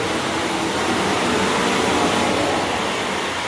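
A carpet cleaning machine running with a standard tile wand during tile cleaning, a loud, constant broadband whoosh of suction and spray with no pauses or talk.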